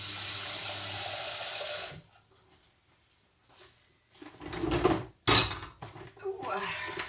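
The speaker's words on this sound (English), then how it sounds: "So I'm going to get a pan of water" Kitchen tap water runs steadily into a pan for boiling lentils for about two seconds, then cuts off. Quiet clunks and handling noises follow as the pan is moved.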